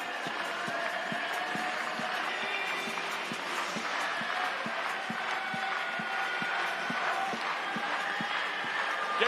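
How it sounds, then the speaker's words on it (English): Baseball stadium crowd at PNC Park clapping along in a steady rhythmic beat, distant and diffuse under a broad roar of cheering fans. "Clap those hands and follow along"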